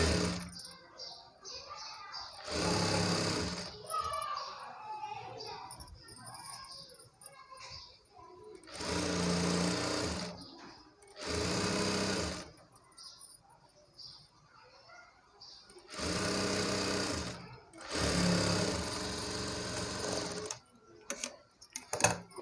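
A sewing machine stitches saree fabric into an umbrella frock, sounding in several short rhythmic bursts of close, fast mechanical whirring, with someone speaking between runs.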